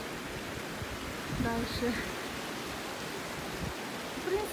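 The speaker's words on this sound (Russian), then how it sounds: "Вот оттуда водопад, течет вот сюда" A mountain waterfall in Azerbaijan's highlands gives a steady, even rushing roar from a distance, with a voice speaking briefly over it.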